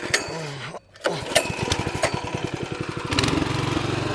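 A Raja Bhai Champ model mini tractor engine is pulled over and catches after a short pause, then settles into a loud, rapid, even putter close by.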